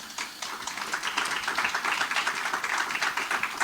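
A room full of people gives a sustained round of applause for a panel at a hurricane anniversary gathering, with dense, even clapping that holds steady and fairly loud throughout, without any talking.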